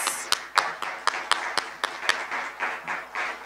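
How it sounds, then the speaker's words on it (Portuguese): Audience applause at a solar energy industry panel meeting as a speaker is called to the stage, with a rhythm of distinct, loud claps roughly every quarter second standing out over a softer spread of clapping. "Agora chamo ao palco Mara Schwember, coordenadora estadual da Absolar no Rio Grande do Sul. Por favor, palmas."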